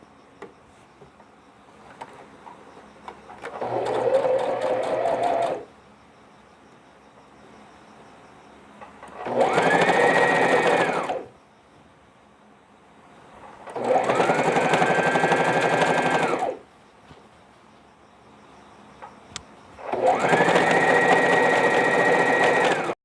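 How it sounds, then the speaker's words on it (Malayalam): A sewing machine stitches the bottom of a smocked frock to a white piece, running in four separate bursts of steady whirring, each a couple of seconds long with short quiet pauses between, close and fairly loud. "വൈറ്റ് പീസും ഫ്രോക്കും ചേർത്ത് ബോട്ടം സ്റ്റിച്ച് ചെയ്യുക."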